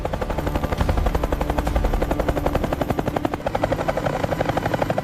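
A helicopter roars loud and close with a dense, rapid rotor chop that stays steady throughout, nothing else cutting through the thick mechanical drone.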